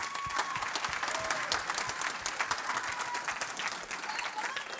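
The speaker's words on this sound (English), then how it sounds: "Let's give Lucas and Bonnie a round of applause for coming up here." Applause from a conference audience at AngularConnect 2017, dense and steady clapping filling the room throughout, loud and continuous with no pauses.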